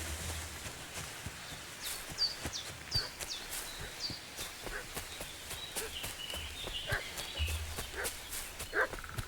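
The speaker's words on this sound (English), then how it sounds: "What's that dog making such a fuss about?" Dog barking repeatedly in Kingdom Come Deliverance II, sharp yaps scattered across a medieval outdoor scene with hoof clops and footsteps, moderately distant and fairly quiet.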